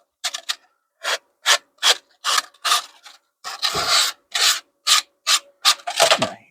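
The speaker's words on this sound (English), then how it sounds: "there's the sandpaper." Dry hand-sanding of a plastic trunk cover on a Toyota RAV4 with 400 grit sandpaper, a series of crisp, close rasping strokes in a steady back-and-forth rhythm, roughly a dozen passes with brief pauses between.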